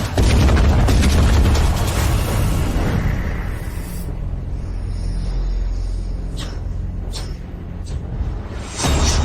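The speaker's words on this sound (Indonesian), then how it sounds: "Gunakan bom gas untuk menyerang." A gas bomb explodes in a dramatic action scene, a loud deep boom and rumble that fills the first few seconds, then settles into a lower sustained roar with a few sharp bursts near the end.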